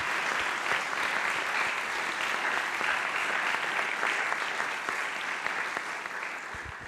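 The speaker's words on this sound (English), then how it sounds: "a round of applause for all these individuals" A conference audience in Berlin claps steadily, a dense, even wash of applause from a large crowd that holds for several seconds and tapers only slightly at the end.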